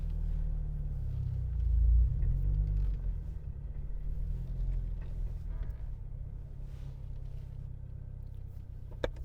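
Steady low car engine rumble while driving, loud and continuous, with a brief surge near the start and no talking.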